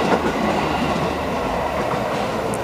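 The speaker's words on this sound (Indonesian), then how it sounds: "melintas KRL JR20056 lewat di jembatan Cimonyong" A KRL commuter electric train rumbles past close by over a bridge, steady heavy rolling noise with rhythmic clattering of wheels over the track, no voices.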